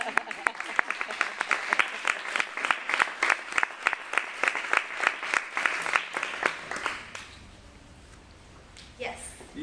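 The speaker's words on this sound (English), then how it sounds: "I want to clap." An audience claps after a sophomore honors essay presentation at Susquehanna University, a moderate room-filling burst of applause that thins out and fades after about seven seconds, followed by quiet room noise.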